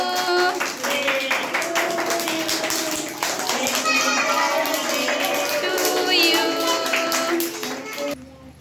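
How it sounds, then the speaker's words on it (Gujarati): Children clapping at a birthday celebration in an anganwadi preschool, a steady stream of claps under an adult's voice and children's chatter throughout. "ચલો બધા તાળી પાડો બાળકો"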